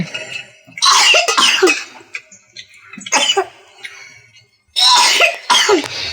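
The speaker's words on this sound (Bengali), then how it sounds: "কি হলো তোমার কাশি উঠলো" Someone coughs at a family meal after eating spicy vegetable curry with roti, in three separate bursts of hoarse, close coughs with quiet pauses between them.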